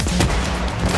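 A single sharp sniper rifle shot in a shooter video game, loud and close with a booming burst that fades quickly, with no voices over it.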